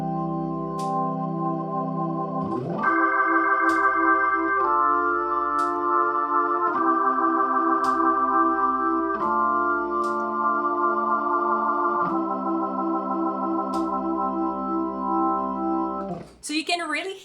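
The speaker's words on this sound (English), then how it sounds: "So you can really hear the sound going very fast because the Leslie is moving faster and slower." A Hammond organ plays sustained chords through a rotating Leslie speaker. The tones waver and pulse as the rotor speeds change, and it is loud and close with no talking.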